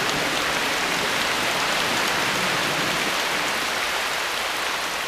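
Heavy tropical rain pours steadily onto a rainforest canopy during a downpour, a dense, unbroken hiss of drops that stays loud and even throughout, with no voices.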